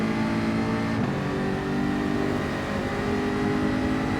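A Mazda race car engine in Gran Turismo 7 drones loud and steady, its pitch dipping near the one-second mark and then climbing again as it runs on without pause.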